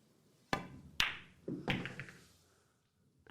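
Crisp clacks of billiard balls on a pool table: a cue tip striking the cue ball, then several ball-on-ball knocks and a softer roll, spaced across a few seconds in a quiet room.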